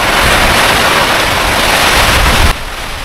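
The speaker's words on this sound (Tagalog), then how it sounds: "Grabe, nagsugod jud ang hangin" Strong, steady typhoon wind in Cebu City roars across the microphone with a constant broadband rush, then drops abruptly to a quieter hiss near the end; no voices.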